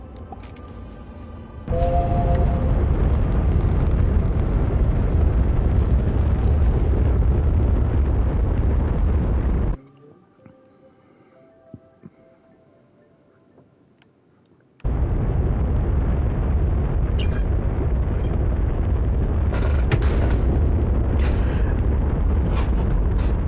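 In a video game, a spaceship thruster breaks with a long, loud roaring burst that cuts out, leaving a short lull of faint sounds before the heavy roar comes back, steady and dense, with no talking.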